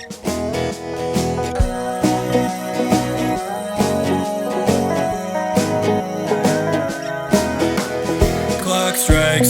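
A full band track plays loud and dense with steady driving drums, thick distorted guitars and sustained bass, without vocals in this stretch.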